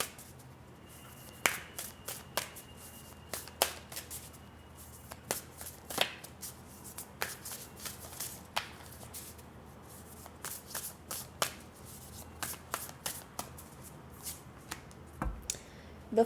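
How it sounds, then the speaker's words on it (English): Rooted Woman Oracle cards shuffled by hand, a steady run of close, crisp riffling and tapping bursts over a quiet background for about sixteen seconds. "Let's get a card from the Rooted Woman Oracle deck for you."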